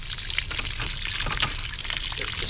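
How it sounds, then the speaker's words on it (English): Water leaking from a hose on a 1994 jet ski trickles and pours steadily, a continuous wet splashing hiss that stays fairly even throughout, close by with no talking. "a little water leak, obviously, from this hose down there"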